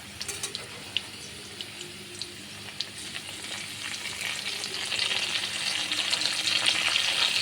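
Potatoes with onion paste fry in oil with a crackling, popping sizzle and scattered sharp pops early on. The frying swells louder and denser toward the end, with no talking.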